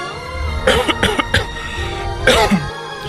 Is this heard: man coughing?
yes